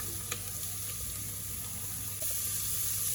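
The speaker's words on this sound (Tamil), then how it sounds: "கொஞ்சமாக தண்ணி ஊற்றி பீட்ரூட்டை வேக வச்சுக்கலாம்" Water runs from a tap or is poured into a pan of chopped beetroot, a soft steady hiss with a faint sizzle beneath, growing slightly louder near the end.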